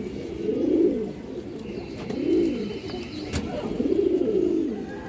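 A pair of Indian high-flyer Kaldom pigeons coos nearby in three rolling, throaty phrases with short pauses between, over a quiet background.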